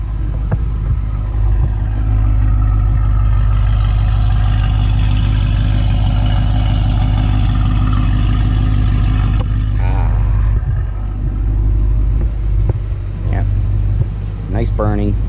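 A 2017 Chevy SS fitted with Kooks headers and an X-pipe idles loudly with a deep rumble, then gets brief throttle blips that swell and drop, with voices talking over it.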